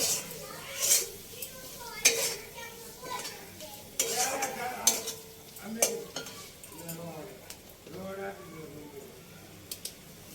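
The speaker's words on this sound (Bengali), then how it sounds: "এবারে যে ডিমের কিমাটা করে রেখেছিলাম ওটা এর মধ্যে দিয়ে দেবো, দিয়ে মিনিট 2-3 ভালো করে কষিয়ে নেব" Egg mince is stir-fried in spice masala in a pan for a pointed gourd dish, with intermittent scraping strokes and clinks of a spatula over a faint sizzle, close by, while a voice speaks between strokes.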